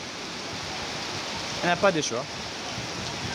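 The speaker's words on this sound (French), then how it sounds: "Il continue toujours de pleuvoir." Steady rain pours outdoors on a street in Kinshasa as a broad, even hiss that fills the whole stretch, with a person speaking briefly over it partway through.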